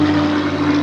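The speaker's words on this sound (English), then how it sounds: "just another Spitfire's just flown by, I don't know if you can hear me over that" A Supermarine Spitfire propeller aircraft drones overhead, a steady loud engine tone with a strong sustained hum throughout the short moment, with no other sound.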